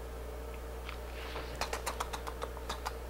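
Quiet computer keyboard typing, about a dozen short clicks in a quick, uneven run near the end, ending on a firmer key press, heard over a steady low hum with no talk.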